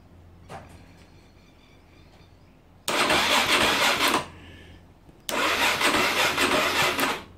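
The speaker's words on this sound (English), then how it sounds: "the bike might start. It hasn't got the jump leads on anymore, but it might just start up." A motorbike engine being started after failed theft damage, with a quiet click and background hum before it cranks and roars into life twice, each loud close burst revving for over a second before cutting out.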